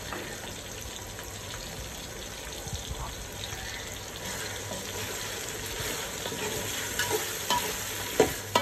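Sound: masala paste being fried and stirred for chicken biryani

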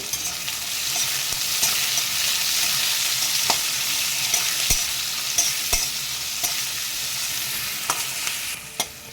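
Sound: stirring onions frying in a pan

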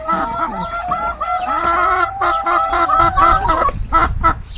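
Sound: chickens clucking in garden

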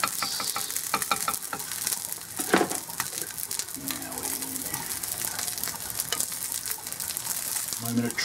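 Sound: egg frying in a pan

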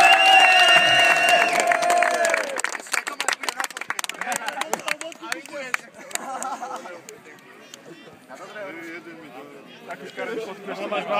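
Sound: fans applauding the players from Rajec

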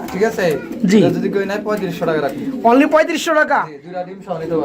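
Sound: pigeons cooing at a pigeon farm

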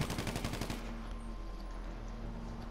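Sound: gunfire in GTA Online video game

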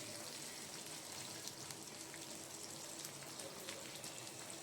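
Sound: fenugreek, black cumin, green chillies sizzling in hot oil

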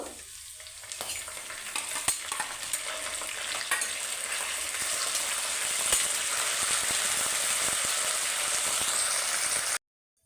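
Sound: curry leaves frying in a pan for gongura pulihora

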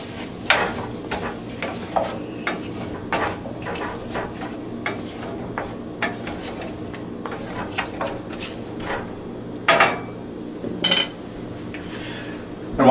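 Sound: stirring fennel cooking in a pan

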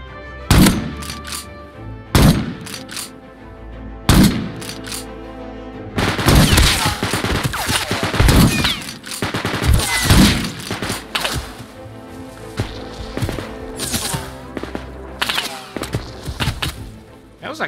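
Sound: gunfire in the video game Rust

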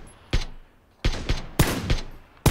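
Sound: loud gunfire in video game PUBG

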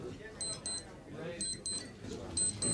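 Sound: wristwatch alarm beeping

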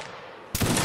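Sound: musket volley fire in Mount and Blade Napoleonic video game

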